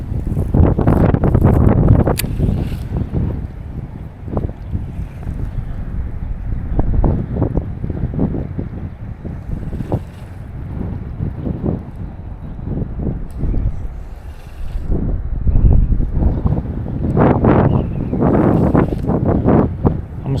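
Strong wind buffets the microphone on a fishing boat during a spring jig-and-worm outing. The roar is loud and continuous, with gusty surges and thumps throughout.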